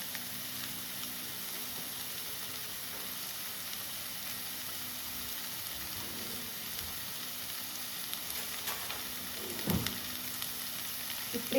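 Ginger garlic paste sautéing in a hot pan with curry leaves for a pups filling, a steady close sizzle and frying hiss throughout, with occasional faint stirring scrapes.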